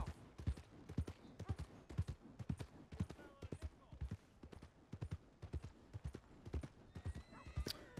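Rhythmic clip-clop of horse hooves trotting steadily in the video game Red Dead Redemption 2, close and fairly loud, with a short whinny near the end.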